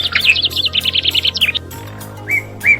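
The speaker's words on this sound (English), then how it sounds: "Hope you could hear the birds singing." Birds sing among the shady trees of Cubbon Park, Bangalore: a quick run of bright, repeated chirps up close, then a pause and two separate clear whistled notes.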